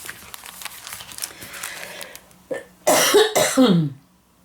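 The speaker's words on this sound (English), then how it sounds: "I turn on the video, and guess what I have to do right away? I have to cough." A close, forceful cough bursts out twice in quick succession after some quiet rustling.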